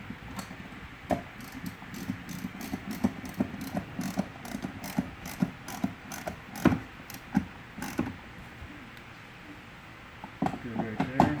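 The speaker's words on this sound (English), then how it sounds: "screw down the armrest" A plastic armrest is screwed down on a 2010 Ford Fusion door, giving a steady series of quick ratcheting clicks and small knocks from the screwdriver, with a short pause before more clicking.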